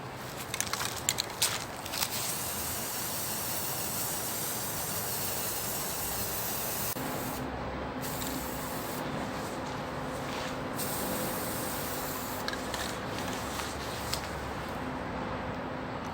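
White spray paint hissing from an aerosol can onto a prop skeleton outdoors, a long steady spray with a few short pauses and bursts, fairly close and alone.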